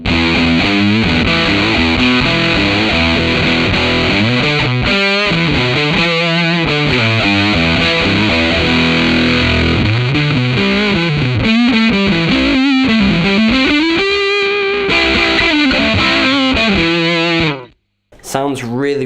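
An electric guitar runs through a Thorpy FX Veteran Silicon fuzz pedal, a limited edition unit, giving a thick, creamy distorted tone. Sustained lead lines and lower riffs play loud and close for a long stretch, then cut off abruptly.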